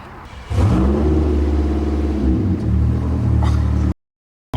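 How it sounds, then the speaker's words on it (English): A Nissan Skyline engine with a suspected exhaust leak runs close by, revving up into a loud, steady rumble for several seconds before cutting off abruptly. "Does it have an exhaust leak?"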